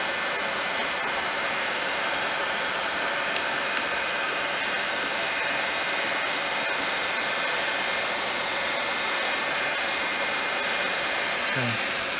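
A heat gun runs continuously up close with a steady, loud airy roar that doesn't let up. It is being used to warm and fix a butterfly house.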